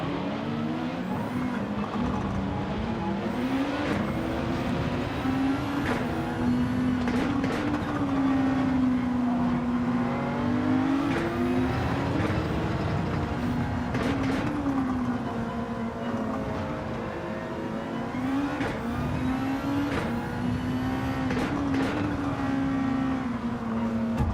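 Racing cars in a video game, an old Honda NSX and a Porsche, hold a steady engine drone with rising and falling pitch as they shift and corner, loud and continuous throughout.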